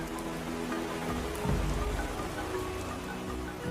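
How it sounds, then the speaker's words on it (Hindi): Steady monsoon rain falling on surfaces in a forest, a dense even patter with a brief low rumble swelling partway through. "ये बरसात की शुरुआत है।"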